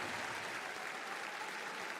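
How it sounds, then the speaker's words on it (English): A dense, steady wash of audience applause at The International 2025 Dota 2 tournament fills the whole stretch, many hands clapping at once with no break or talk. "Let's get a big round of applause for Netta and Team Tundra"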